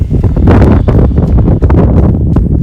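Loud, gusting cold wind buffets the microphone on New Zealand's highest public road, in a steady roar with rumbling surges, no voices heard.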